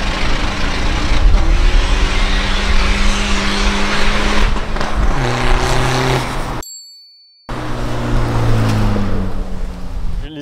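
A Tesla and a 300+ horsepower SEAT Ibiza drag race, with loud engine roar rising through gear shifts, a short dropout, then more accelerating engine and tire noise up close.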